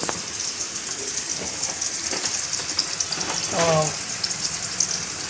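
Chicken sizzling and frying in hot oil with curry leaves, a steady crackle throughout with brief stirring noises and a short swell of sizzle near the end, no talk.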